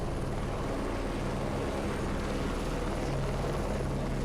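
Helicopter in the combat game Heliborne, a loud, steady, close rotor and engine drone with a continuous thrumming beat and no voices.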